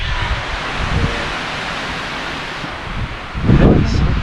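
Wind gusts through the Buckhorn Wilderness on a rainy backpacking trip, a loud broadband rush that swells and fades, with a stronger gust near the end.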